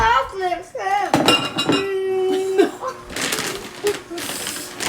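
Chocolate chip cookie dough is mixed in a bowl, with a utensil clinking and scraping against the sides in irregular knocks while people talk over it.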